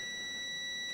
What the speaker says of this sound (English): Hopefully you can hear that beeper. That's just my meter